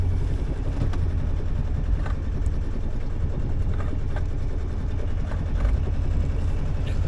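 A sailboat's inboard engine runs steadily just above tick over while under way off the UK coast, a low, even, throbbing drone with faint knocks and no talk.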